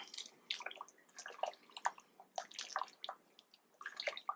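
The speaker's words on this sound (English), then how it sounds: "this stuff's just now getting to a boil. So in go the taters." Potatoes drop into a pot of water just coming to a boil for chicken corn chowder, making a string of soft, close splashes and plops with light watery bubbling between them.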